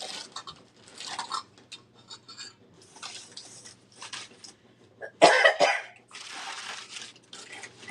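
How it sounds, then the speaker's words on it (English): A woman in the middle of crafting Christmas decorations coughs once, loud and close and sharp, against a quiet background of soft rustling and handling sounds. "I am still coughing, which is ridiculous."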